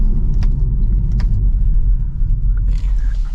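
A 2025 BMW M440i Coupe driving, heard from inside the cabin as a loud, steady low engine and road rumble that runs the whole time, with faint soft voices over it.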